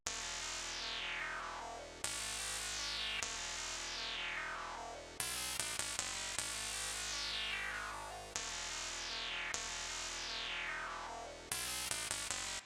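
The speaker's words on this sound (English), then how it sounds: "I added a bass one shot from the Trap Reimagined kit, I believe." A bass one-shot from the Trap Reimagined kit plays root notes in a trap beat, a series of deep sustained bass hits with sweeping tonal tails, repeating every couple of seconds with a short cascade of quicker notes near the middle.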